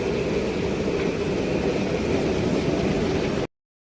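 A metro train arrives at an underground station in Doha, Qatar, with a steady, loud, broad rumble and roar that fills the space, then cuts off abruptly.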